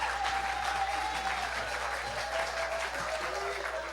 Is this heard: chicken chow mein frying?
no